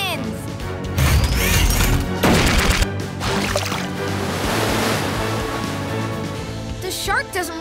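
Loud splashing water bursts and crashing surf from a water cannon in a video game, busy and continuous, with voices and music-like tones mixed in.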